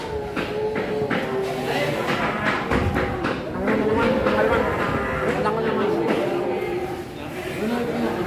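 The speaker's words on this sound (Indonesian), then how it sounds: "Keras, keras kan sapinya." Cattle moo repeatedly and loudly at close range among a restless herd, including horned animals, with people talking over the bellowing throughout.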